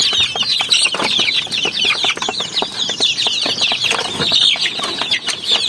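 A flock of upgraded native chickens clucks and chatters nonstop at close range while feeding, with many overlapping short calls and occasional rustling or wing flaps.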